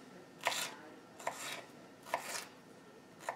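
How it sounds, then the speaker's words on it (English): A knife finely cutting vegetables for vegan stuffed peppers, four evenly spaced, quiet chopping strokes on a board, close and alone. "Okay, so I'm cutting this up fine."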